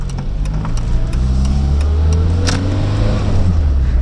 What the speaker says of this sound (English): It's the combination of engine and gearbox. It's got a very charismatic whine.